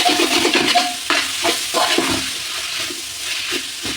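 Chopped tomatoes stirred into biryani masala in a pan, giving a steady wet scraping and sizzle with repeated spoon strokes against the pan, fairly close and continuous, with no voices.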